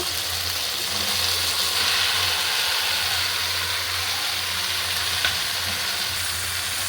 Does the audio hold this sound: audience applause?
no